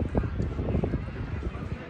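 Clip-clop of a stallion's hooves in a horse show judging ring, a steady uneven patter of close steps under loud crowd and ringside chatter.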